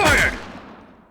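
A gunshot burst from the police game The Precinct, one loud close crack with a short rapid flurry of shots that rings out and decays over about a second.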